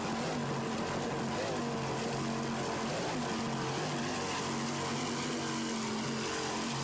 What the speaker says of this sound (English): Listen to those two 600-horsepower Advantage inboards.